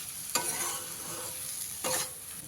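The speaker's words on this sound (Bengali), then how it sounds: "লবণ দিয়ে খুব ভালো করে আবারও মিশিয়ে দিতে হবে" Potatoes being stirred with spices and salt in a frying pan, with a steady sizzle throughout and two distinct scraping stirs of the spatula against the pan, close and moderately loud.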